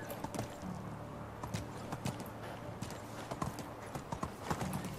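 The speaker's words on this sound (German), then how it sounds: "Die Pferde können irgendwie nicht langsam laufen." Horse hooves clip-clop in a fast, steady gallop in the medieval survival game Medieval Dynasty, rhythmic and clear against a faint background ambience.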